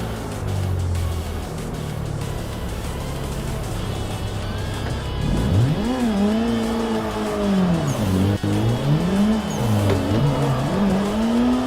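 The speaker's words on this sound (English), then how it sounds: "I am so bad at drifting in a circle on Assetto Corsa" Car drifting in the racing game Assetto Corsa, a steady engine drone climbing into a wavering, looping tire squeal that swells and dips as the car slides around a circle, loud and continuous.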